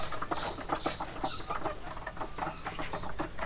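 Pigeons in a loft with young squabs, giving soft cooing and clucking calls that repeat close by over a steady background murmur, with no talk.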